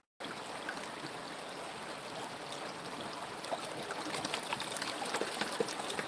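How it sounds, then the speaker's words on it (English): Rushing stream current flows steadily and close by during gold panning in Georgia, a continuous broadband wash of water that swells slightly louder toward the end, with no talk. "It's hard to pan in the current."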